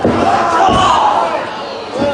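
Wrestling crowd at a DGUSA Bushido: Code of the Warrior 2010 event cheering loudly and steadily as a wrestler climbs the top rope, a dense roar with rising shouts that dips briefly near the end.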